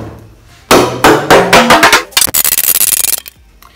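Series of sharp hammer blows knocking a wooden breadboard end off a dining table top, about a dozen loud percussive strikes in quick rhythm, close and alone with no talk.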